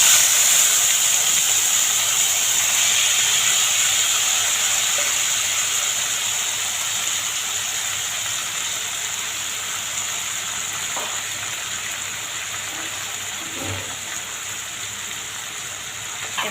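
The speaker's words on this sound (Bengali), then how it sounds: "এখন আমি মশলা মাখানো মাছটাই দিলেই এর মধ্যে।" Spice-coated fish frying in hot oil with chopped onion and green chili, a steady close sizzle and hiss that eases slightly over time, with a few faint clicks and no talk.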